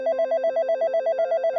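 A telephone bell rings in a steady, rapid repeating trill, loud and close, with no other sound around it.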